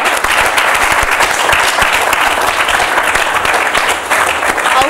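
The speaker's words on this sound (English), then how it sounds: "So a round of applause for all of those people." Loud, dense applause from a large audience at a student government general assembly, steady and continuous throughout with no pauses.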